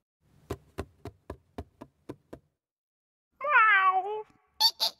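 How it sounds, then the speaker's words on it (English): A cat gives a clear, fairly loud, drawn-out meow after a run of eight sharp knocks, followed by a short higher-pitched cry. "It's a cat."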